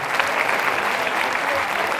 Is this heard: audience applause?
yes